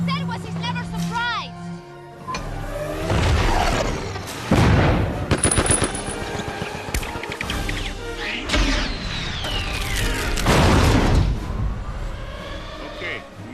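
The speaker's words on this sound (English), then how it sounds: "the Atlantean vehicles, all carved as fish that fly through the air and fire lightning at enemies, with effects more science fiction than adventure" Sci-fi weapon fire from the flying fish-shaped Atlantean vehicles of an Atlantis adventure film: repeated crackling, gunfire-like bursts and booms over an action score, with shouting voices in between.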